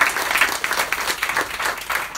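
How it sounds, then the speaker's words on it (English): A crowd at a book event with two authors in conversation applauds warmly, a busy, moderately loud burst of many hands clapping with small swells throughout. "Let's give our authors a round of applause."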